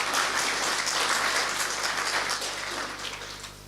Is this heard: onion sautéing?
no